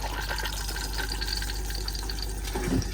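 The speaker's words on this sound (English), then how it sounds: "after use, you can give it a good flush" Flush of a cassette toilet in a Swift Select 184 motorhome, a steady rush of water filling the bowl with a gurgling swell near the end, close and fairly loud with no talk.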